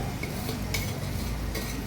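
Tomatoes tossed into a pan of frying onion, ginger and garlic masala for a Delhi-style biryani and stirred, with steady close sizzling, scraping and a few sharp utensil clinks against the pan, no talk.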